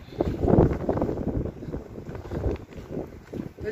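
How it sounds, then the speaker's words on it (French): Gusty wind on a Mediterranean beach buffets the microphone in rough, uneven bursts, with faint voices partly buried beneath it. "y a toujours du vent"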